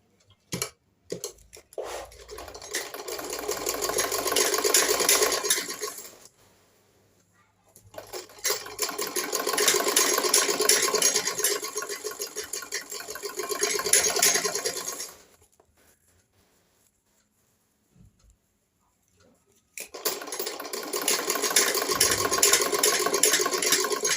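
A sewing machine stitches a lined blouse, the lining and outer fabric sewn together, in three loud, steady whirring runs with brief quiet pauses between them and no talking.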